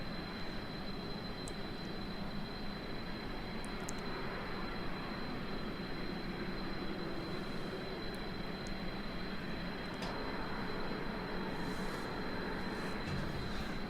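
Plane engine in the video game Kerbal Space Program, a steady droning hum holding at an even loudness throughout while the aircraft flies, with no talk over it.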